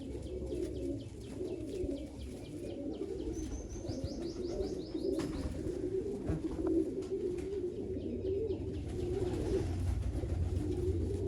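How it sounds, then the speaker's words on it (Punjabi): A Chinese pigeon hen coos softly amid thin chirping and tweeting from other birds, steady low background noise throughout, with no voices. "ਇਹ ਪੁਰਾਣੀ ਕਬੂਤਰੀ ਆ ਮੇਰੀ ਚੀਨੀ ਕਬੂਤਰੀ"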